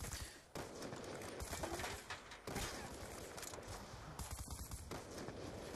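Gunfire from the Ballista sniper rifle in the video game Black Ops 2 rings out within loud, dense game noise, with sharp shot onsets breaking up a continuous roar.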